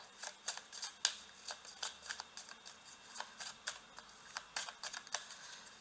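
Tarot cards are shuffled and drawn, producing a close, soft run of quick papery flicks and slaps in an uneven rhythm, fairly quiet, with no voices.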